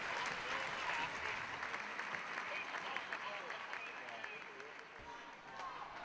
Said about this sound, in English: Blaze fans applauding.